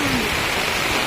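Rain falling as a short, steady, dense hiss of close downpour.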